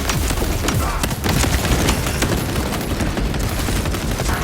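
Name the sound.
servo gun firing in the video game Warhammer 40000: Space Marine 2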